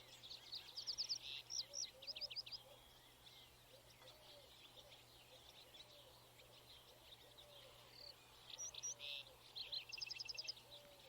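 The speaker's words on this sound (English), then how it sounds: "You hear the songs of larks and the cooing of wood pigeons." Larks trill and chirp in high, faint bursts at the start and end, with soft wood pigeon cooing low underneath in a quiet outdoor scene.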